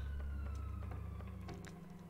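Sirens wail in a Zelda: Wind Waker video game, a steady tone running through the whole short stretch at moderate level with no talk.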